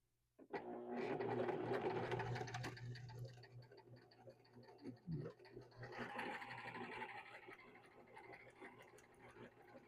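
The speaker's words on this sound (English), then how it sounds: "I'm on a setting 2 for the stitch, and we're going to go ahead and sew this." A sewing machine stitches a pillow made from a repurposed quilt on stitch setting 2, a close, fast mechanical whir that starts abruptly, pauses briefly midway, then resumes more softly.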